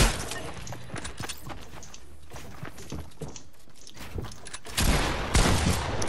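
Video game gunfire from a first-person shooter, a burst of sharp shots and rattling impacts through the stretch, growing louder and denser toward the end.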